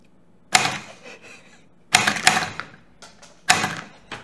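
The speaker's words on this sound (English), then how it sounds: "I'm just using my benchtop power supply to fire the solenoid" A benchtop-powered solenoid condiment cannon firing jelly packets across a table: three sharp mechanical clacks spaced about a second and a half apart, each followed by brief rattling and clatter, in a quiet room.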